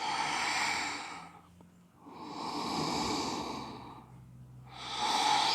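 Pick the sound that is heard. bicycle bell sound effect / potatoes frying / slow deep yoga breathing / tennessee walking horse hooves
slow deep yoga breathing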